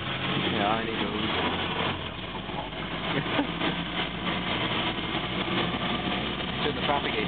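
A 1934 Morris 10 Convertible drones steadily while driving along, its engine running continuously under voices talking in the car.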